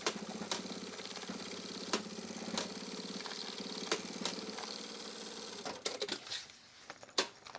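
A sewing machine stitching webbing straps onto a drop liner duffle bag runs in a steady, close mechanical whir with brief pauses and clicks, then slows into separate stitches near the end.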